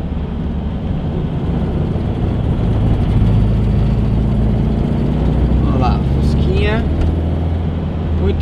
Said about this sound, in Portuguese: dá umas bombadinhas no acelerador, ó, ele vai melhor